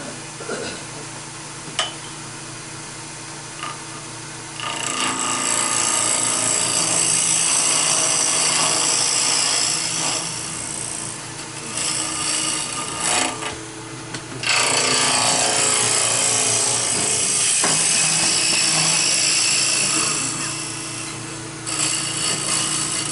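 A scraper cuts a squarish wooden bowl spinning on a lathe, producing long stretches of harsh, raspy scraping with brief pauses between passes. The sound is close and fairly loud, and no one talks.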